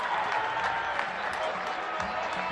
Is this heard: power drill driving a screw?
no